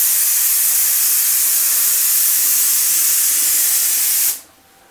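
Water sprays in a loud, steady hiss onto a popcorn ceiling being wetted for removal, holding constant for over four seconds and then cutting off abruptly.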